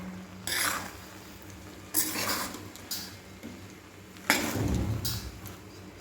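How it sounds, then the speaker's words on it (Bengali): A spoon scrapes and stirs cooked mutton ghee rice in a pot in several separate passes, each a soft scraping swish with faint clinks against the metal, quiet and close with pauses between strokes. "ভাতটা আমার হয়ে এসেছে এখন সেটাকে একটুখানি নাড়িয়ে দেবো"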